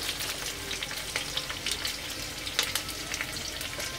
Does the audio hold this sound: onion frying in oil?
yes